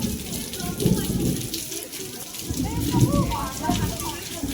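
Heavy rain hisses across the whole clip at a girls' hostel in Odisha, with water splashing and dripping nearby, while voices talk underneath.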